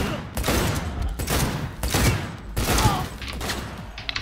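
Rapid automatic gunfire in the video game Cyberpunk 2077, loud sustained bursts of shots broken by short pauses, with heavy booming impacts.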